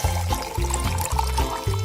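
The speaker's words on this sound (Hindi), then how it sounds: "और अब इसमें थोड़ा पानी मिलाया।" Water poured into a cup of coffee, a steady close liquid pouring and splashing sound that runs throughout with a gently pulsing rhythm.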